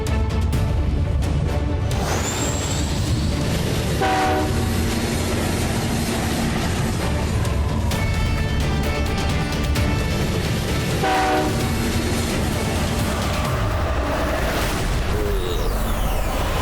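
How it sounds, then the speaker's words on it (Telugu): A cartoon train rolls past with a loud, continuous rumble of wheels and carriages, sounding its horn in several sustained blasts spread across the passage. "నువ్వు ట్రైన్ చూడగానే ట్రైన్ ఫాలో అవ్వు."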